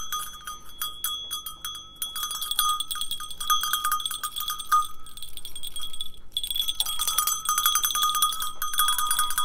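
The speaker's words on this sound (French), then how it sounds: "je vais vous faire un petit coup de cloche" A metal bell rings repeatedly in quick, uneven bursts, bright and close, with short pauses between rounds of clanging.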